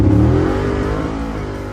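A carbureted 1955 Chevy all-motor drag car engine, tuned slightly rich, revs loudly and close up with a deep throaty roar that slowly falls in pitch, with no voices.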